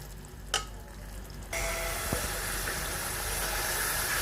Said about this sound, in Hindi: हरी मिर्च ऐड करेंगे और भूनेंगे मसाले को